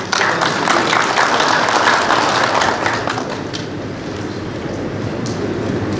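An audience at a Turkish official urban-renewal event applauds a speaker invited to the podium, a dense, sustained wash of clapping that stays loud and gradually eases off slightly.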